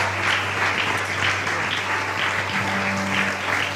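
A church congregation claps together in steady rhythmic beats, loud and close, with a sustained musical tone underneath.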